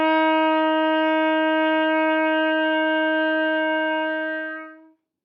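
A trumpet sustains a clean F for nearly five seconds, alone and steady, before it tapers off to silence.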